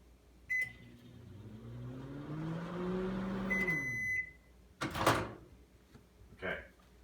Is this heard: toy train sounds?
no